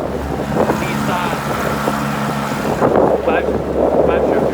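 Good old Nissan outboard, about 5 horsepower, pushing a boat through choppy water on a Chesapeake Bay delivery: a steady low engine drone mixed with wind buffeting the microphone.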